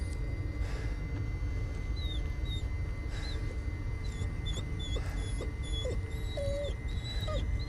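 A dog whimpers in the Blair Witch horror game, giving thin, high, repeated whines spread across several seconds over a steady low ambient rumble, fairly faint with no talking.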